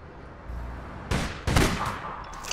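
Gunfire in the APB Reloaded game, a couple of sharp loud shots close together over a low ambient background, with no one speaking.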